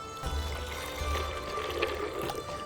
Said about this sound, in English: The blender will be added with some almonds and a cup and a half of water.